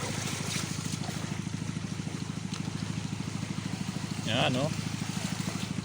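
Bicycles ride through flood water with a steady churning splash and trickle, while voices chatter and call out over it and a brief shout rises near the end.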